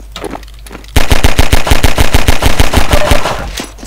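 Rapid automatic gunfire from a Half-Life deathmatch game bursts in loud and close after a quiet start, a steady fast stream of shots lasting about three seconds.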